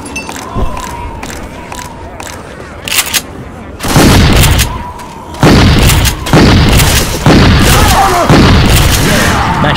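Rapid, heavy gunfire and booming blasts fill a chaotic firefight in Rainbow Six Siege Outbreak, loud and close, with dense repeated shots and explosions over a busy game soundscape.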